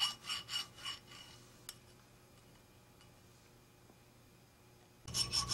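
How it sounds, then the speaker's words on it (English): A jeweler's file scrapes across metal in a few quick, rhythmic strokes. A quiet stretch follows, then a brief burst of rasping at the end. "if you take a jeweler's file with a hardness of 7, anything below a 5 can easily be filed down"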